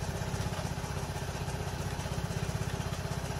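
A Vespa Primavera automatic scooter engine runs steadily at idle with a close, even, buzzy putter and light clatter, heard alone with no talking.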